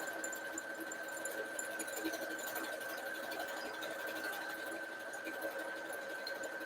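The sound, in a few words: sewing machine stitching a buttonhole on a skirt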